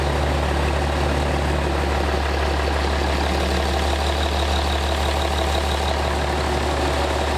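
A pro street truck engine idles loudly and steadily up close, a deep continuous rumble with an even throb and no talking over it.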